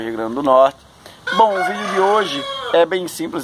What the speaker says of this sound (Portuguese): olha o galo cantando aí, né?